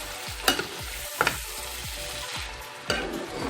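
Meat pie filling with sweet potato being stirred in a hot pan, a steady sizzle with rhythmic scraping strokes of the spoon repeating every half second or so, close and moderately loud, no talking.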